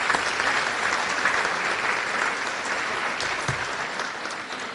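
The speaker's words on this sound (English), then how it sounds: "Multiple claps," A room full of people claps together in sustained, dense applause at a Chamber of Commerce meeting, steady and close, lasting several seconds without talk.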